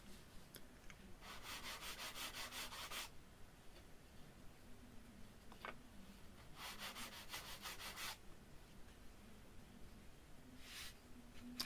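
Sandpaper rubbing a double bevel into model aircraft wood for a SLEC Sky 40 build, heard as two long bursts of brisk scraping strokes, then a short quieter swipe near the end, close and without talk.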